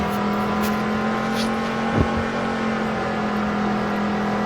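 Race car engines hum steadily in a NASCAR video game on a Formula 1 track in Qatar, a continuous drone with a brief swell of a car passing close by midway.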